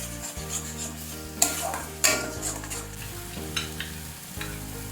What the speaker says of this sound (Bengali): সব গুঁড়ো মশলাগুলো দিয়ে দিলাম দিয়ে আবার এটা ভালো করে কষিয়ে নিচ্ছি